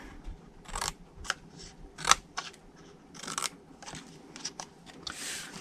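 Scissors snip through paper card down to a score line for a Halloween slider box, a series of sharp crisp cuts in irregular rhythm, close and clear with no talking.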